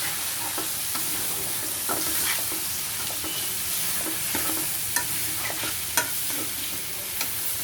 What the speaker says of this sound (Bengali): শাপলাটা দিয়ে দিব অল্প অল্প করে। বন্ধুরা, এটা অল্প অল্প করে দিবেন এবং কষাবেন